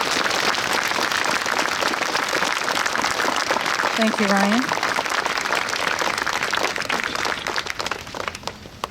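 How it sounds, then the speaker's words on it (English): Audience applause at a school Veterans Day ceremony, a broad steady wash of clapping that runs throughout, with a brief voice speaking over it midway. "Let's have a round of applause for our veterans."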